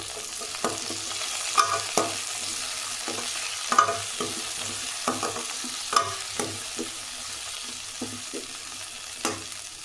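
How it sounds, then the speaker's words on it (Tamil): Onions and tomatoes sautéing in a pan for a brinjal and green field bean curry, with a soft steady sizzle broken by repeated scraping stir strokes, close and fairly quiet, no voice. "இது எல்லாம் இப்போ நல்லா வதங்கட்டும்."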